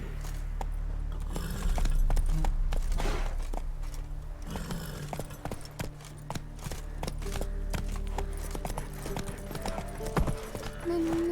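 Horse hooves clip-clop in a steady riding rhythm in The Witcher 3: Wild Hunt, up close against a low ambient game background, with a brief snort near the end.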